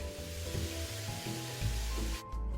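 Ingredients stir-frying in a pan give a soft, continuous sizzle with faint stirring scrapes and a low background hum, steady and close, with no talking.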